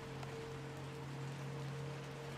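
Rain falls steadily in the video game Little Nightmares 2, a soft, even hiss of drops under a low, constant hum, with no voices.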